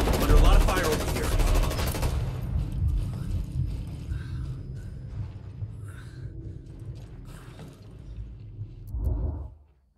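Gunfire rages in a Ghost Recon Wildlands firefight: a dense, loud automatic burst fills the first two seconds, then scattered shots and rumbling combat continue until a final thump near the end.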